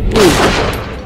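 A single loud, close gunshot boom fires in the horror video game Until Dawn, then decays with a short rumbling tail.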